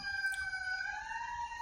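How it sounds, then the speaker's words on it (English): An approaching ambulance siren sounds as two steady wailing tones that slowly rise in pitch, fairly loud and continuous, with no talking. "there's an ambulance coming, and it's gonna be super loud"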